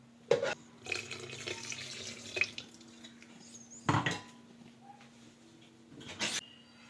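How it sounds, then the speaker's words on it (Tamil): Water runs from a tap in short splashy bursts as a mixer grinder jar is rinsed, with clinks and knocks of the container against the sink. "மிக்ஸி ஜாரை நல்லா கழுவிட்டு"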